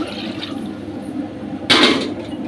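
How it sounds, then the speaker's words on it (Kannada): Water pours into a cooking pot for Muslim-style wedding ghee rice as a steady rushing flow, with a louder splashing surge near the end. "ನೀರು ಹಾಕ್ತಾಯಿದ್ದೀನಿ."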